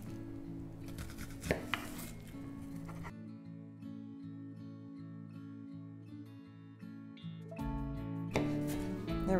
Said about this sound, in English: When I cut an onion, I cut it into strips first, and then when I cut the other way, it just falls into pieces.